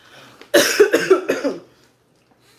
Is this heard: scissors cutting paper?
no